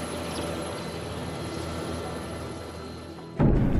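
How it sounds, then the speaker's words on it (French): A military helicopter flies over mountains with a loud, steady, close rotor and engine roar throughout, ending in a sudden heavier low rumble. "L'hélicoptère nous dépose en pleine montagne, en zone militaire."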